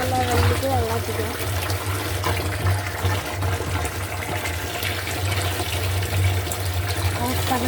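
Water pours steadily into a tank, a constant rushing trickle close by, with a person talking over it.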